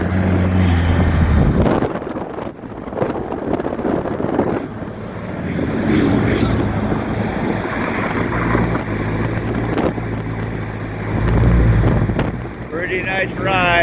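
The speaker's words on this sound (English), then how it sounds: "You can hear the turbocharger kick in on this thing." Vanderhall sports car on a test drive, its turbocharger spooling up with a surging engine roar and a wastegate release, all buried in heavy wind rush at the microphone.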